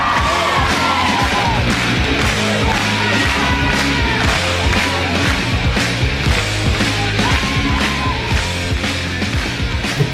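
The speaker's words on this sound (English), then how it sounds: "The clapping of the audience is also really stupid, by the way." Audience yelling, whooping and cheering at a band's performance, a loud continuous crowd roar mixed with the band's dense music throughout.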